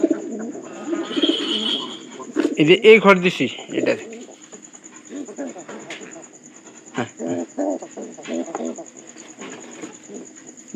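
Pigeons coo in low, throaty bursts nearby, overlapping with a person talking, while a faint high electronic tone runs steadily underneath.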